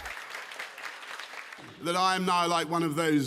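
Applause for Boris Johnson as he leaves his office, a crackling spread of clapping for about a second and a half before a voice begins speaking over it.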